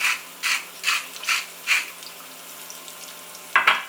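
Salt being added to season grilled tomatoes cut into flower shapes, five short gritty rattling bursts in quick, even succession, then a pause and one final sharper shake close by.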